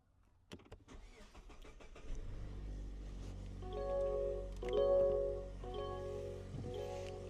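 A 2024 Mazda CX-30 Turbo cold-starts at night: a few clicks and rustles, then a brief cranking, the engine catching and settling into a steady low idle close by, with no talking.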